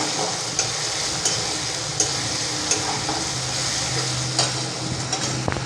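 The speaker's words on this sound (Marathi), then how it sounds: "कांदा आपल्याला चांगला परतून घ्यायचा आहे।" Onion sautéing in a pan with asafoetida tempering for a bean curry, a continuous close sizzle with regular light spatula taps roughly every half second or so, no talking.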